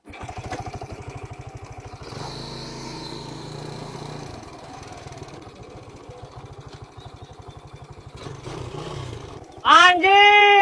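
A new motorcycle's engine thumps steadily at idle with rhythmic low pulses, then near the end revs sharply and loudly as it rides off.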